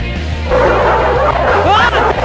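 Several dogs bark and yip excitedly after a dog whistle in the quiz game You Don't Know Jack, a loud overlapping cluster of barks over a low musical hum, with a voice exclaiming briefly among them.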